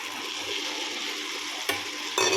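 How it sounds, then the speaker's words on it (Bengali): Spices, turmeric and potatoes fry and get stirred in a pan for a fish-head murighonto, a steady close sizzle with scraping stir strokes and a couple of sharper clatters near the end. "মশলাগুলো দিয়ে ভালো করে ভেজে নেব"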